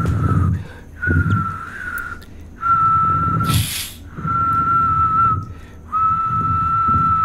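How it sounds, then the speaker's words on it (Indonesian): A person whistles a steady, sustained tone in several long phrases separated by short pauses, with a brief burst of noise in the middle. "Mitosnya kalau siul tuh manggil kan"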